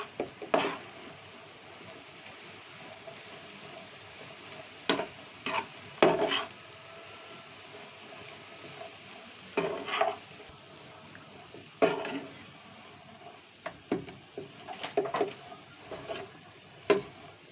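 Leftover thick roti pieces being stirred into melted sugar in a pan for Peshawari churi, with intermittent scraping and clinking of a spoon against the pan over a soft background hiss.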